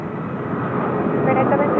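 Asiana Airlines airliner on approach to the runway at Incheon Airport, a loud, steady broadband engine roar heard up close without a break for the whole short stretch.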